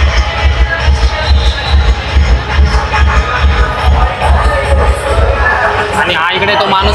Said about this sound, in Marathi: मित्रांनो गर्दी बघा किती गर्दी आहे